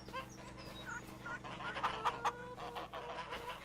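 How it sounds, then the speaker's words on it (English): Farm fowl call in the Hof Bergmann farming video game, a few short honks and clucks rising over a quiet low hum, faint and close together. "It must be you, I'm guessing, is a goose? You're awful noisy."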